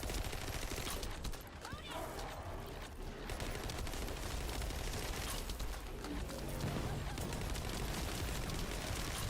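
Dense, continuous gunfire in the video game The First Descendant, a rapid barrage of shots blending into a steady roar with no pause, heard at moderate volume.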